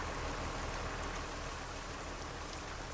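Steady, dense rain from American Truck Simulator pours down evenly for the whole stretch, a continuous hiss of drops on surfaces with no talking over it.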